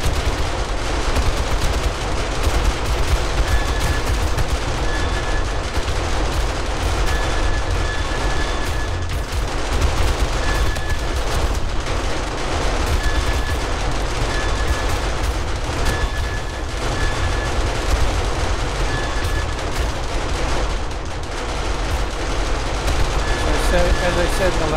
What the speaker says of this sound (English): Those guns are so loud.